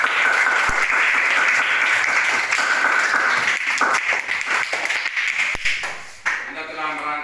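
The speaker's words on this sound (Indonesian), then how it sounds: "Tepuk tangan dulu." Students in a classroom break into dense, steady applause that fills most of the stretch before tapering off near the end, with some voices mixed in.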